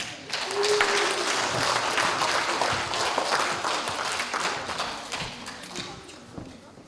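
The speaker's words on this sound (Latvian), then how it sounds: "Aplausi jums visiem!" A crowd at a children's award ceremony claps in sustained, dense applause that swells early and slowly fades toward the end.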